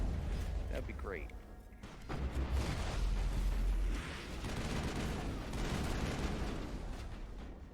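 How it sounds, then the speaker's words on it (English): Heavy rocket fire and explosions in the Mass Effect video game form a dense, continuous barrage of booms and blasts, loud and sustained throughout, with rumbling low-end thuds. "If you could stop shooting rockets, that'd be great"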